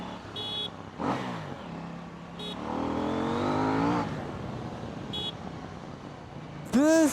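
KTM Duke 790 motorcycle engine revving and pulling hard through rising pitch sweeps, under wind roar, with brief blips between surges and a loud burst at the end.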